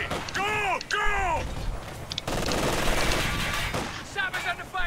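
Bursts of machine gun fire crackle in the Company of Heroes 2 battle on the Port of Hamburg map. The rapid volleys run over a loud wash of combat noise, and voice barks and speech cut in at times.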